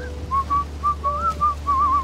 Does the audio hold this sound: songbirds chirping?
no